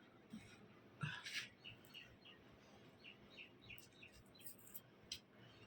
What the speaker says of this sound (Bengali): পাখিগুলো ডাকছে, কিচিরমিচির কিচিরমিচির খেতে আসে